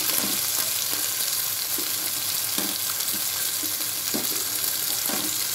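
Cabbage and long beans stir-fry over high heat for fried rice, a loud continuous sizzle with soft periodic scrapes of the stirring spoon underneath, no voices.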